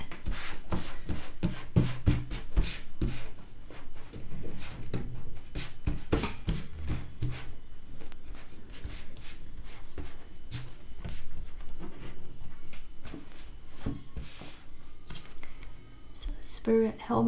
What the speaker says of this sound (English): let's shuffle the deck and select your pile.